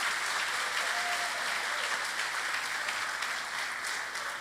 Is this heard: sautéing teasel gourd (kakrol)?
no